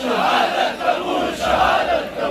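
Large protest crowd in Parachinar chanting slogans in unison, loud rhythmic rising and falling voices in repeated phrases.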